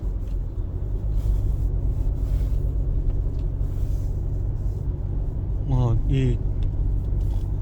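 SsangYong All New Rexton Master SUV engine running as a steady, quiet low rumble heard from inside the cabin throughout, with a person talking over it.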